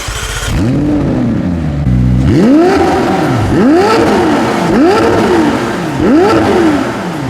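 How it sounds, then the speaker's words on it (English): A McLaren Senna supercar exhaust revs repeatedly, rising and falling in several loud, throaty bursts with crackles between them, close by. "the exhaust also sounds amazing. Take a listen."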